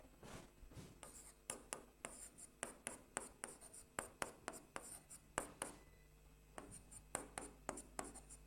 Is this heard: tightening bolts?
no